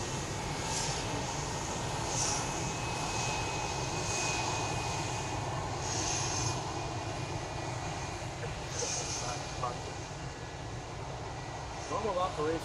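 A cargo plane at Ted Stevens Anchorage International Airport in Alaska roars with a steady, loud engine drone that holds for the whole stretch, heard from fairly near with a faint voice underneath.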